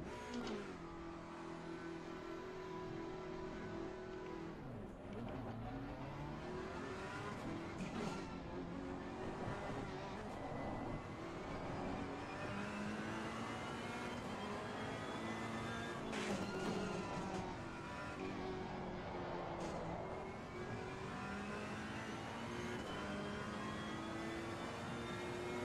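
A GT3 race car from a racing video game circuits Pergusa, its engine note rising and falling through gear changes at a steady moderate level, with a few brief resets and no talk over it.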